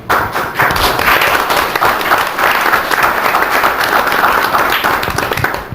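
Loud, steady round of applause from the audience at a city council meeting, dense hand clapping filling the room with occasional thumps, continuing without a break.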